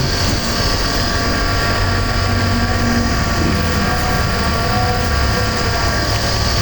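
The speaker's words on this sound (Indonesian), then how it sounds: "Oke, aeratornya kita nyalakan." Aerator running in a small nickel plating setup for a metal shuriken, giving a steady, loud, unchanging hum and whirr throughout with no talk.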